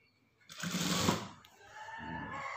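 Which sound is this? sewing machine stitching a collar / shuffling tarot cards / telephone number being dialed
sewing machine stitching a collar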